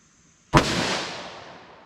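A single .357 Magnum gunshot fired from a short barrel with Barnes TAC-XPD ammunition, one sharp loud crack followed by a long fading reverberant tail, heard alone.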